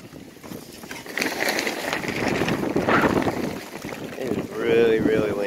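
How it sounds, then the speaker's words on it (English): Strong wind buffeting the microphone in rumbling gusts outdoors, with someone talking over it and a short creaking squeal near the end. "Really, really windy here today."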